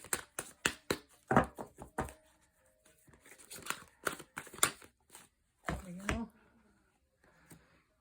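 Hands shuffle a deck of stiff oracle cards up close, giving quick bursts of papery riffling, slaps and taps that stop and start over several seconds.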